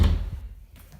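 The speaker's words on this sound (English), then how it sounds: "so let's walk through this door." A house door swings, giving one close, heavy thud at the start that fades into a quiet room.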